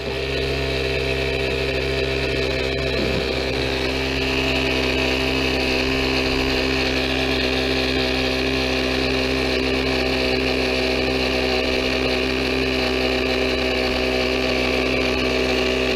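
An air pump inflates an electric bike tire, a loud, steady motorized drone that holds unchanged without a break, close up and with no voices.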